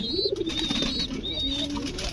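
Pigeons coo softly and repeatedly at close range, with low, rounded calls and a faint higher whistle above them.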